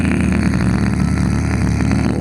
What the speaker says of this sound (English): your vibration bass with this closure is going to sound more crackling,